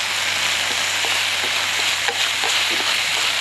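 Chopped scallions sizzle in a hot pan with a bright, steady frying hiss, with a few faint stirring clicks and no talk.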